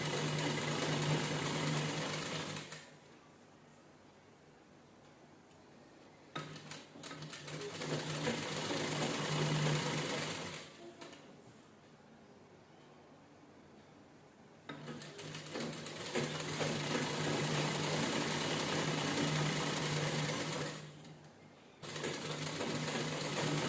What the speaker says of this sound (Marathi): बरोबर एक सलग शिलाई करून घ्यायची, म्हणजे नॉट बरोबर आपली एकसारखी आली पाहिजे